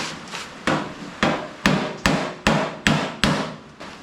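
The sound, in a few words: hammer on dolly, hammering metal panel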